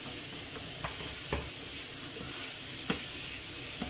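Minced meat sizzles in a pan on high heat with a constant crackling hiss, broken by a few soft scraping knocks as it is stirred now and then.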